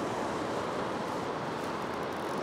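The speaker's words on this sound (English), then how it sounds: "The waves seem to be diminishing with the tide." Ocean surf breaks and washes against the rocks at a rock fishing spot, a continuous dense rushing hiss that stays fairly steady and moderately loud, with no voices.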